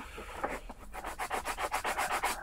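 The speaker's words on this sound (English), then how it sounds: "you can sharpen it up just by scraping it on a bit of concrete or using a file" Welder's chalk being sharpened by scraping it against concrete or a file, a run of about a dozen rhythmic, gritty rasping strokes that grow steadier and louder, close up with no talking.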